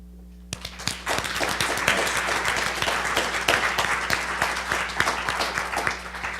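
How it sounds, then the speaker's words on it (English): A room full of people breaks into applause for a panel at the close of a discussion, with sharp near claps rising suddenly after a brief quiet moment and continuing steadily and loudly to the end. "I'd like to give a round of applause to our panel"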